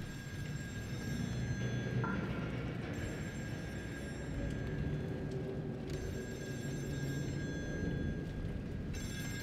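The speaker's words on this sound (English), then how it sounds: "Another phone call." A telephone rings in the game Still Wakes the Deep, with repeated bursts of bright ringing tones separated by short pauses over a low, rumbling ambient background.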